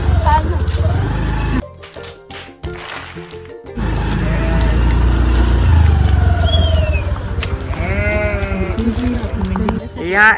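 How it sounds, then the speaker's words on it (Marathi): Sheep bleat repeatedly from several sides around a vehicle stopped in the middle of the flock, near and loud over a low engine rumble, with people talking throughout. "या येडीनी ती मेंढींच्या मध्ये गाडी थांबून दिली फोटो काढायला"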